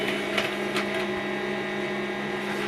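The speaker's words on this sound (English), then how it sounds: "what we're doing right now is just waiting for this document we copied to come out" An HP LaserJet Pro M15w printer runs while outputting a copied document, a loud steady mechanical whir with a constant tonal hum and a few faint clicks from the feed.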